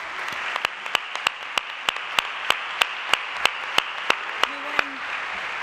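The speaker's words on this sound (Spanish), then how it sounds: "Fuerte el aplauso." Evenly spaced single claps ring out over a broad hiss of crowd applause at a television station gala, a steady rhythm of sharp slaps running throughout.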